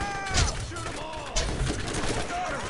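Shotgun fire in the Borderlands video game: a few sharp, loud blasts at irregular intervals, with someone talking over them.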